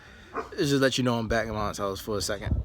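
A dog barks and yips indoors at home, the bark mixing with someone talking over it at close range.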